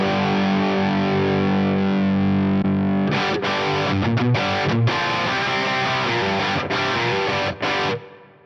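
Electric guitar played through an Axe-Fx III JTM45 Marshall-style preset with an OCD-based drive pedal, a sustained held chord giving way to loud, dense distorted strumming with brief choppy gaps.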